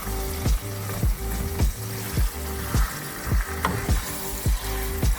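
Seasoned taco ground beef frying in a frying pan, a continuous close sizzle broken by a regular series of low thumps, about two per second.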